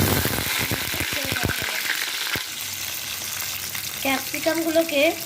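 Capsicum pieces fry in hot oil tempered with whole cardamom, clove and cinnamon, crackling loudly and densely up close with sharp spitting pops early on, then easing into a softer sizzle with some clattering near the end.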